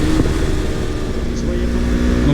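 A motorcycle fitted with a full exhaust system, baffle left in, idles and rumbles steadily nearby for a couple of seconds while someone talks over it.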